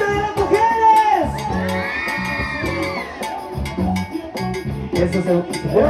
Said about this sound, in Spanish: El grito de las mujeres.